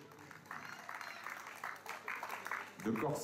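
Faint applause from a crowd at the finish and podium ceremony of an urban raid race, scattered clapping under a voice speaking, rising slightly near the end.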